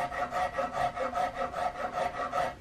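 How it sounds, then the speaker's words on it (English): A half-round rasp files the wooden stock of a Gemmer Hawken rifle kit by hand, giving a close, steady rasping scrape in regular strokes, roughly four per second, with no voices. "I'm using this half-round rasp to go in there and establish this swoop."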